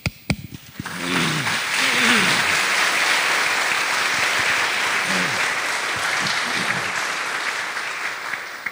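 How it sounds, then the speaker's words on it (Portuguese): A church congregation at a Sunday Mass bursts into sustained applause after a few sharp opening claps, dense and steady for several seconds, with a voice faintly audible underneath. "Hoje as palmas já vieram logo, mas tudo bem."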